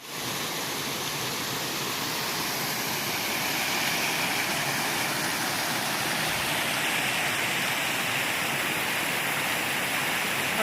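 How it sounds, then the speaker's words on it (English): A stream flowing beside an Appalachian Trail shelter, a loud, steady broadband rush of water that swells slightly partway through and continues without a break, with no talking. "I think there's a stream here as well"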